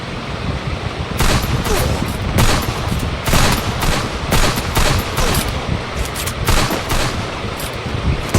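Rapid gunfire in the mobile battle game Free Fire, with repeated loud bursts of shots cracking over a dense, constant background of game noise.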